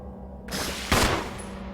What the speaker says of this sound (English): get it down with a gunshot first